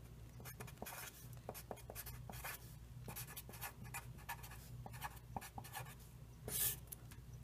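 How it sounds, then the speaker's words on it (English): A formula is written by hand for a definite integrals lesson, with quiet, close scratching strokes in short bursts and pauses that continue for several seconds over a low background hum. "So then step 1 is to write the formula."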